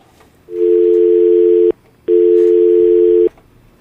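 A telephone line tone plays as a morning radio show takes a listener call: two loud, steady electronic beeps of about a second each, separated by a short gap, with no talk.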